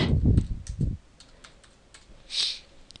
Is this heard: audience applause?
no